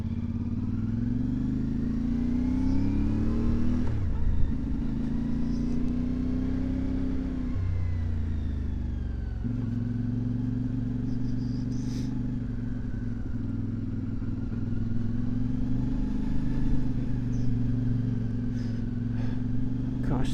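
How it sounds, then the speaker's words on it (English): A CFMoto 450MT motorcycle's engine and exhaust run steadily while riding, a strong low drone rising and falling in pitch through gear changes and revs, with no talk. "the more I like the sound of the exhaust"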